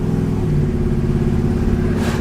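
A dually pickup truck with a newly installed Q-jet carburetor accelerates under light throttle, its engine drone steady and close with a constant low rumble throughout, no voices.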